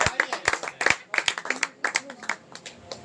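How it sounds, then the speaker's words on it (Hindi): An audience at a creators' meet in Bhopal claps to welcome a guest, giving a burst of sharp, uneven hand claps that runs steadily throughout at moderate loudness, near and without talk. "जोरदार तालियों से स्वागत कीजिए"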